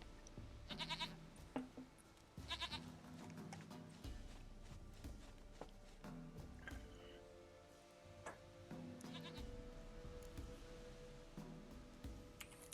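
A goat in The Witcher 3 lets out several short bleats, the clearest near the start, with quieter rhythmic clicks and ambient game sounds after.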